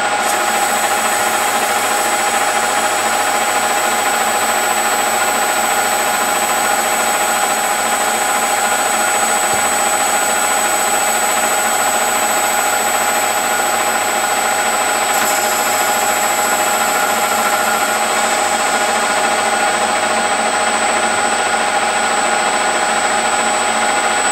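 A machine cutting on auto feed makes a fine, smooth cut as part of a night vision build, a loud steady drone with a constant whine that holds unchanged throughout, no talking.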